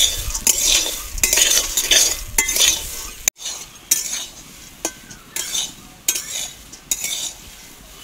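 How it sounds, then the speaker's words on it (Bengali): Wheat grains dry-roasting in a dry kadai, stirred with a utensil: repeated scraping and rattling strokes with light metallic clinks, fairly close and steady, with a brief pause partway through. "এবার এই শুকনো কড়াইতে গমগুলো ভালোভাবে ভেজে নেব"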